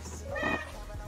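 A cat lets out one short meow, close and fairly clear, with people talking around it.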